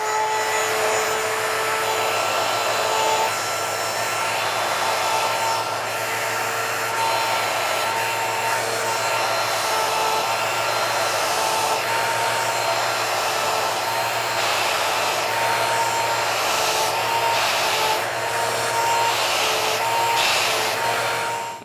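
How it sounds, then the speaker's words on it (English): An angle grinder runs steadily against metal clamped in a vise, cutting a 45-degree bevel groove; a loud continuous high whine holds for about twenty seconds with no break, alone and without talk. "I'll plug it in, and I'm just going to run at an angle, just a quick little grind down to give a little groove"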